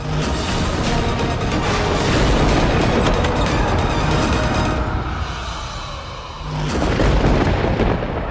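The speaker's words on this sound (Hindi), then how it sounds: "बहुत तेज आंधी तूफान है।" A fierce thunderstorm with strong wind roars loud and close, a broad rumbling rush that swells, dips briefly and surges back again, with no voices.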